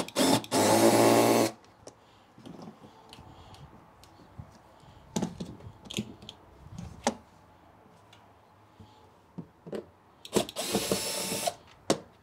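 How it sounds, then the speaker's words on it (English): A power drill unscrews a part on an F-150 body in two loud whirring bursts, one at the start and one near the end, with clicks, taps and handling noises between them. "I'm going to unscrew that part first before I start cutting."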